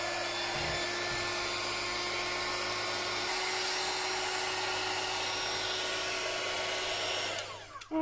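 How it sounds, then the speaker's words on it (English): A handheld air blow gun blasts steadily over junk journal paper craft, a loud continuous hiss that runs nearly unbroken for several seconds before cutting off at the end. "Let's get my blow gun"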